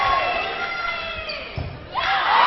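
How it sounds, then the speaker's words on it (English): Spectators at a men's ultimate frisbee match between Italy and Wales cheer and shout loudly, a burst of crowd noise under an excited commentator's voice, swelling again at the end. "they've gone absolutely nuts in the crowd"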